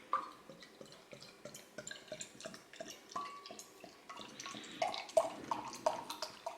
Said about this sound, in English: It's well carbonated, as you can hear